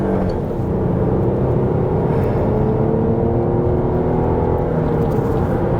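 A steady V6 engine drone from a 2017 Kia Sedona minivan runs throughout, low and continuous with a slight rising hum, as from inside the moving vehicle.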